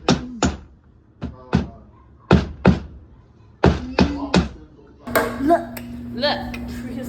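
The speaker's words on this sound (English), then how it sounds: "Kiddo's hammering hobby has turned into quite the passion." A child hammers at home with uneven single knocks and thunks spaced through the first five seconds, close and fairly loud, before a steady hum and scattered clatter take over.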